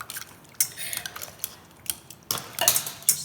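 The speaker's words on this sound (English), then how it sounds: "we take a whisk and we're going to blend it together" Coconut yogurt is whisked in a bowl to break up lumps, producing irregular metallic clinks and scrapes against the dish, some sharper taps in quick clusters, close and moderately quiet.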